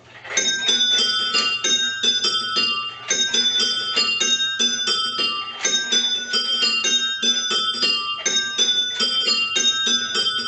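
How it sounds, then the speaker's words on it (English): Change ringing on a set of really small bells: bright, tinkling strikes fall in quick, steady rounds, each row of rapid notes following the last with short gaps, loud and close throughout. "let's have a look at it being done on some really small bells."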